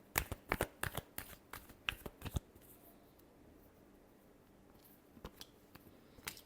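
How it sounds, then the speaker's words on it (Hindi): Tarot cards are shuffled in quick bursts of crisp riffling snaps, then a pause, then a few more shuffling clicks near the end; close and fairly quiet, with no talk. "Last shuffle."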